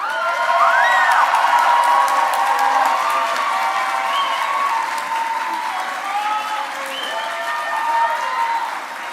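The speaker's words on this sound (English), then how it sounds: "now give them a round of applause" An audience at an eighth-grade graduation ceremony gives sustained applause with some cheering and shouts, loud and full throughout, easing slightly midway before swelling again near the end.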